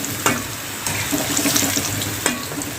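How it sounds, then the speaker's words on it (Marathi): Potato pieces fry in hot oil with a steady bubbling sizzle, close by, with a few sharp clinks or stirring knocks of a utensil against the pan. "छान असं कलर येईपर्यंत आपल्याला फ्राय करायचे आहे."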